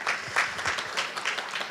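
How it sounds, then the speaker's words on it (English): A symposium audience gives a short burst of steady clapping for a panel speaker, moderately loud, with a few faint voices underneath. "Can we give him a round of applause?"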